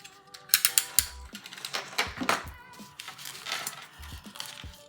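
Paper trimmer slicing a piece of scrapbooking paper, with a run of quick clicking, ratcheting blade strokes and a few soft thumps up close, no talking.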